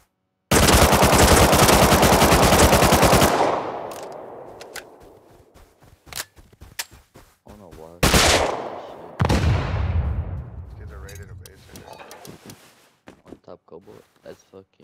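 Gunfire during a raid in the console version of the video game Rust: a long, dense automatic burst, then scattered single shots and further rapid bursts echoing off, loud and close, with a voice talking over parts of it.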